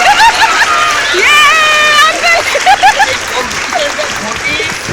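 A small group claps for the winning side of a playful Bangal versus Ghoti contest, with quick, close applause mixed with excited overlapping voices and shouts.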